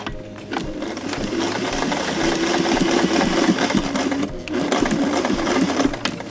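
Sewing machine stitching over a zipper and cording on a pillow cover, a steady close mechanical hum with a rapid needle rattle, briefly slowing then resuming at full speed.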